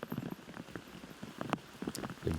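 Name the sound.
rain falling during a disc golf match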